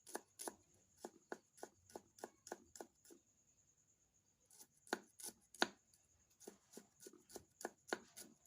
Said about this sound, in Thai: ก็จะหั่นหอมแดงนะคะ